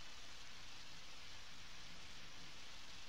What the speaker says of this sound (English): Why does it feel like this rain is falling?